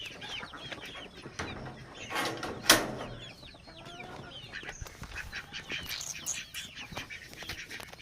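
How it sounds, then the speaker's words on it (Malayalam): Domestic ducks in a backyard enclosure where eggs are laid give repeated nasal quacks and clucking calls, close and moderately loud, with a brief louder squawk partway through. "നമ്മളെ താറാവ് ഇവിടെ പരിപാടിയൊക്കെ തുടങ്ങി."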